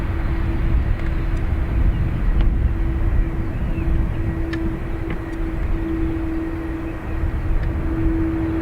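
An Aer Lingus airliner takes off from runway 28 right at Dublin Airport, a steady loud broadband jet roar with a constant tonal whine, sustained throughout with no talk.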